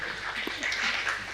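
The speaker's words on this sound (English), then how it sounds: "A clap for them while they go" A brief burst of audience clapping at a health forum, a dense, fairly even patter of hands lasting just over a second.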